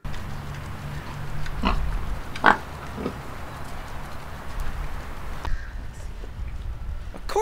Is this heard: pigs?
yes